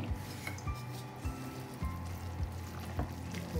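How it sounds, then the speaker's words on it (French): Cooked, drained and rinsed spinach being stirred into a sauce for a green vegetable cake batter, with soft wet squelching and repeated scraping strokes in a steady rhythm, close up and moderately loud. "on va commencer par mélanger les épinards déjà cuits, égouttés et rincés dans notre sauce"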